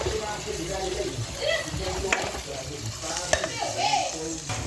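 Taco filling sizzles steadily in a pan as seasoning is stirred in, a close hiss with occasional scraping and clicks of the utensil, while a person talks over it.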